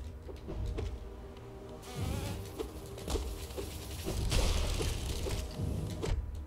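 Buzzing swarm of bees released by an enemy in the video game Hollow Knight, a dense insect drone with rapid clicks and impacts layered over game combat noise, fairly loud and continuous with no talk.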